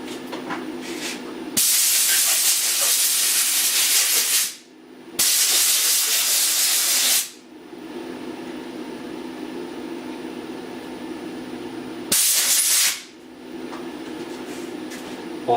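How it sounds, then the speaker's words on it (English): Compressed air nozzle blowing off a coil winder gear, three loud, close hissing blasts of a few seconds each with a quieter background hum between them. "Get the air nozzle here."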